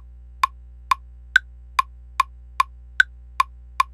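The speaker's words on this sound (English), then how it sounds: "A great starting point for these rock loops is about 150 on the metronome." A metronome ticks steadily at 150 BPM, nine sharp, evenly spaced clicks with occasional higher accented beats, clean and close over a faint low hum, with no voices.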